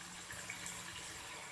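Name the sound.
pouring water into fried potatoes in pan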